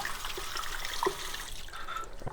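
Tap water runs steadily while a sealed Eheim Classic 600 external canister filter is rinsed under it, a continuous close splashing hiss with a few brief drips and gurgles.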